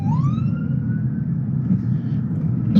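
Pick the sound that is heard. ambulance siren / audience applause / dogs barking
ambulance siren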